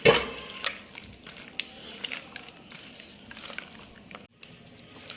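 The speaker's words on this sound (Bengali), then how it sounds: "একটা ডিমকে আমি এখানে দেব, দিয়ে ভালোভাবে আবার মেখে নেব।" Marinated chicken pieces stirred together with a raw egg in a bowl, giving soft wet squelching and scraping under a steady noise bed, with a few small clinks near the start.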